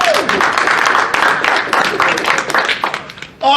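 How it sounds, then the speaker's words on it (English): Applause from an open mic audience at a furry convention, a steady wash of many hands clapping over about three seconds, with some cheering voices mixed in before it cuts off abruptly. "give them another round of applause"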